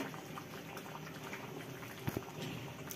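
Pot of vegetable khichuri coming to a boil, a soft steady bubbling and gurgling, faint and close, with a couple of small louder pops near the end.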